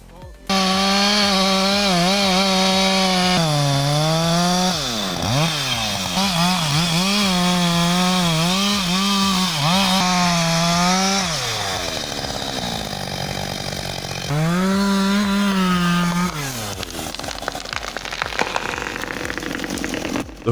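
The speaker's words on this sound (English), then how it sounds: "The Husqvarna 562 XP sounds every bit as strong as advertised." A Husqvarna 562 XP chainsaw cuts into a tree trunk, its engine loud and close as it revs and bogs in steady waves, with a pause before it roars up again and fades into rattling.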